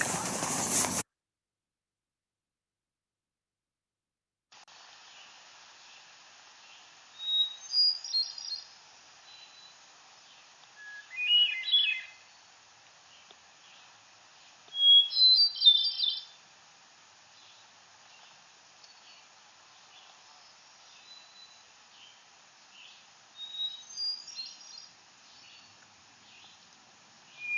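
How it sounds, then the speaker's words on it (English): A hermit thrush sings several separate, flute-like phrases spaced several seconds apart, clear and moderately distant over quiet background hiss. "So that was a song of the hermit thrush"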